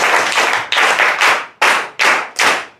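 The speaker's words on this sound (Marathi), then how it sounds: "टाळ्या वाजवून स्वागत करूया" Loud, close bursts of clapping from a small gathered audience welcoming a trainer at a bank training-institute event, with several surges that start abruptly and then fade.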